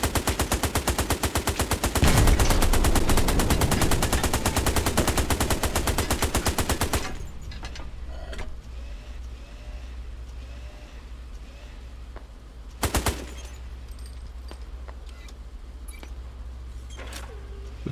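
Tank machine gun in the World War II video game Hell Let Loose, a long loud unbroken burst of rapid fire that stops abruptly, followed by quieter engine rumble and a short second burst.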